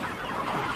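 Pastured chickens inside a chicken schooner on a poultry farm, a soft continuous murmur of clucking from the flock, fairly quiet and steady with no talking.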